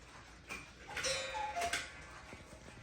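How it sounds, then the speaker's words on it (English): A cuckoo clock sounds in a few bright tonal bursts over a quiet room, with short whistle-like cuckoo notes, fairly close and moderately loud. "you just heard the cuckoo clock go off"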